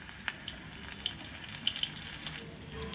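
Soft, steady sizzle of boiled green chillies frying in foaming wood-pressed oil on low gas for chilli bhaji, with a few sharp pops and crackles standing out from the gentle bubbling.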